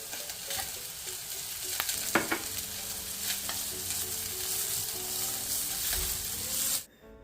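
Garlic, ginger, green chilies and celery frying in hot oil for homemade Schezwan sauce, a steady close sizzle with occasional stirring clinks that cuts off abruptly near the end.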